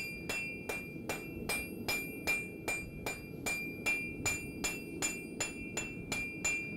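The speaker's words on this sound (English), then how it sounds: "you're seeing a close-up of not only some heat and hammering, but of our Kanka anvil" Hot metal is struck on a Kanka anvil at a forge, about two dozen sharp ringing hammer blows falling in a steady, even rhythm, close and clear, with no voices.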